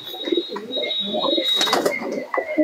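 Pigeons in a loft of birds kept for sale give soft, low cooing calls amid rustling and a brief burst of fluttering, with a steady high tone running underneath.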